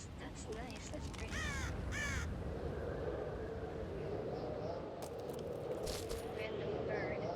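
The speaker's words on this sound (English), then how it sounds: "Random bird." Crow cawing in the fantasy video game The Witcher 2: Assassins of Kings, a few harsh caws early and more calls later over a steady ambient bed, with a person talking at times.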